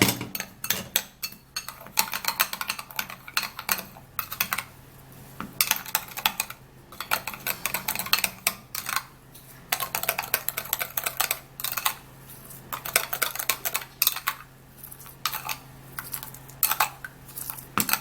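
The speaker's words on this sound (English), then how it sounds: "now I would have to be turning that into the sugar mix and mix it really good" A sugar scrub being mixed in a bowl for smoothing rough legs, giving a steady run of close, crisp scraping and clicking strokes in quick irregular bursts, with no one talking.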